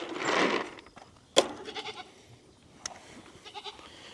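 Goats bleat on a farm around a barn at feeding time: a loud, close bleat opens, followed by a few softer, shorter calls and scattered clanks in a quiet setting.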